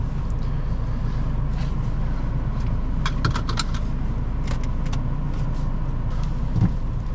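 A 2021 BMW X2 M35i pulls away on a test drive, its engine and road noise a constant low rumble heard from inside the cabin, with a few faint clicks and rattles and no talk.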